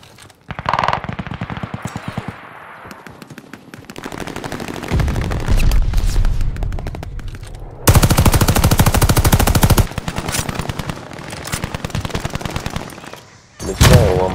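Turret machine-gun fire in Call of Duty: Vanguard, loud sustained automatic bursts broken by short gaps and shifting in intensity across fourteen seconds, with game effects between bursts.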